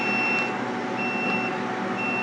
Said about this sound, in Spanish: La alarma está ahí activa.